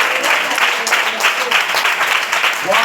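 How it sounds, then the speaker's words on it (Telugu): Church congregation applauding loudly, a dense, steady wash of clapping lasting the whole stretch, with voices mixed in beneath the applause. "గట్టిగా చప్పట్లు కొట్టి"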